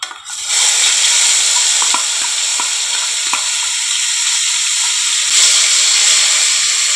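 Ground onion, ginger, green chilli and garlic paste frying in hot oil with cloves and cardamom for a curd katla fish curry, a steady loud sizzle with occasional crackles and light stirring, no talk.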